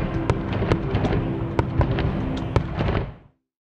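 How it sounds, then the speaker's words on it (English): Fireworks burst at a London, Ontario ballpark, a loud rapid series of sharp cracks and pops over a dense rumbling crackle, ending abruptly in silence. "I really liked the fireworks at the end."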